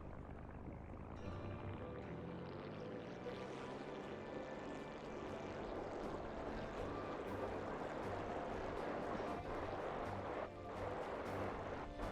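Propeller airplane engine drones steadily while taxiing in a brewing-themed flight video game, a continuous loud hum with shifting tones and no talk.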